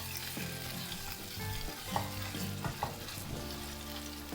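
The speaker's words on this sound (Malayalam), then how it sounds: "എന്നിട്ട് നല്ലപോലെ ഒന്ന് മിക്സ് ചെയ്ത് കൊടുക്കാം." Peshawari chicken frying in a kadhai, stirred with steady scraping strokes and a few sharp utensil knocks over a continuous close sizzle, with no talking.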